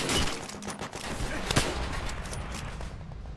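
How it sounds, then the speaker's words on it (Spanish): Dense gunfire from all sides in Call of Duty: World at War, with rapid overlapping shots and bursts rattling continuously for a few seconds at close range, plus one sharper crack midway. "Me están disparando por todos lados"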